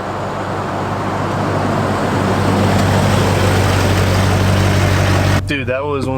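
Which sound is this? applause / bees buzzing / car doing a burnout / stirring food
car doing a burnout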